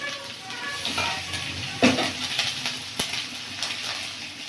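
Cumin powder and turmeric fry with chopped onion, garlic paste and ginger paste in a pan in a village kitchen, a steady close sizzle broken by scraping stirs and a sharp clatter near the middle.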